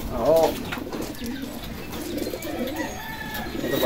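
Pigeons coo close by in soft, low, throaty bursts, with a faint voice in the background.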